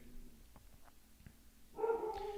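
Dogs barking outside are heard faintly at first, then a louder, more sustained bark or yelp rises near the end, muffled as if through a wall.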